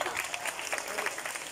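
Applause from a crowd at a political party presentation in Tierra Blanca, steady dense clapping filling the whole moment at moderate loudness with no voice over it.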